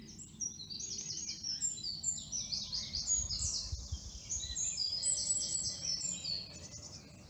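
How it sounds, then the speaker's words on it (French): Several birds singing outdoors, bright overlapping chirps and trills drifting in and out at moderate distance, alone over a soft low rumble. "Je peux remercier la mélodie des oiseaux aujourd'hui encore."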